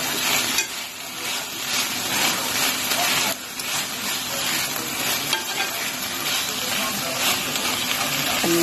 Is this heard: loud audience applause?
no